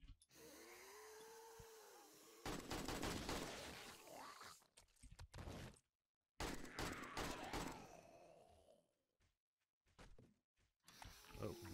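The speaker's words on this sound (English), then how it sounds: "Sounds like there's a shooting range down there." Gunfire in the video game 7 Days to Die, heard from a shooting range below a multi-story building: loud bursts of rapid shots and mechanical clatter in several clusters, separated by brief silences.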